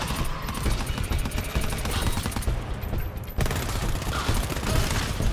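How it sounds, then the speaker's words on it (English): A deployed turret in GTFO fires dense rapid automatic rounds in sustained, close, loud bursts, with clanking mechanical noise mixed in. "I'm putting my turret down."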